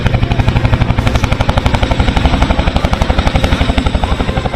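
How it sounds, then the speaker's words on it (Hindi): A Chinook helicopter flies low over Dal Lake during an air show, its loud, close rotor thudding in a rapid, steady beat that fills the whole clip. "यहां पर लोगों के सबसे करीब चिनूक हेलीकॉप्टर आया।"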